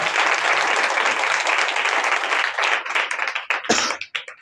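A church congregation claps hands together in praise, a dense, sustained burst of many people applauding loudly that thins out and breaks into scattered claps toward the end.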